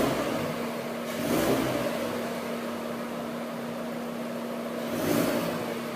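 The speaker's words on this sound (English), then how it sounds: "Here's a quick startup sound on the Mazda 3" A 2019 Mazda 3 hatchback engine idling with a steady hum, then two short revs rising and falling a few seconds apart, moderately loud and close, with no talking.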